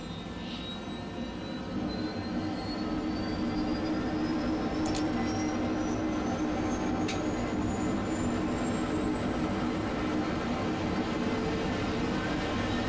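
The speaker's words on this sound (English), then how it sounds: "we'll start each engine one at a time" An aircraft engine spools up during start, a steady loud roar with a rising whine that climbs slowly in pitch throughout, plus a few brief clicks midway.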